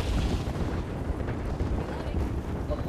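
Explosion in the Apex Legends video game, a loud continuous rumbling blast with dense low-end boom filling the whole moment, with voices talking over it.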